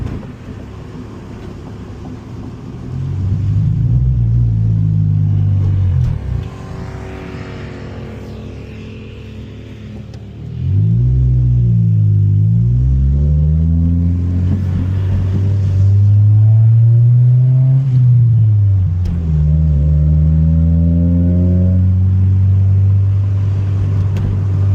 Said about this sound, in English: All right, so we got the Civic out for its first drive here.